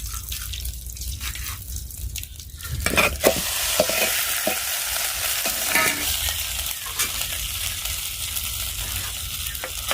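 Spices tempering in hot oil for khichdi with ginger, a home kitchen vaghar: quiet stirring at first, then a steady hiss and sizzle rises after a few seconds and carries on alone to the end.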